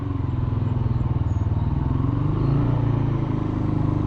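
Motorcycle engine laboring as the bike climbs a hill: a loud, close, rapidly pulsing low throb that strains and swells slightly midway, with no speech.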